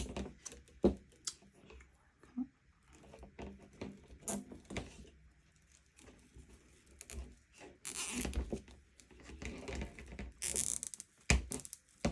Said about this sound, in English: going to zip tie it.